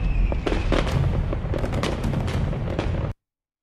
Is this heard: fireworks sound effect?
yes